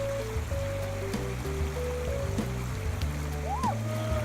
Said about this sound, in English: Here we are again at the Jordan River, another part of the Jordan River.